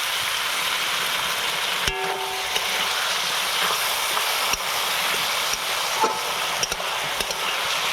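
Water hits a frying spice paste in a pan, giving a steady, fairly loud broadband hiss with scattered small pops and clicks running the whole way through.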